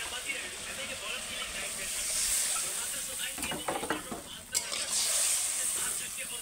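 Water meets sizzling spice masala cooked for a fish curry, producing a continuous close hiss and sizzle with a few stirring scrapes, fairly soft, and a voice talking faintly in the background.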